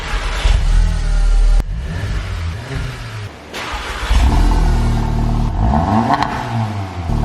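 A Mk7 Golf R fitted with a Milltek non-resonated exhaust cranks and fires up, its engine catching with a loud burst and settling into a throaty, slightly uneven idle with a couple of blips, close and alone.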